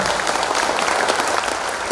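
An audience at a NasDem party branch inauguration breaks into loud, continuous applause, a dense patter of many hands held steady throughout.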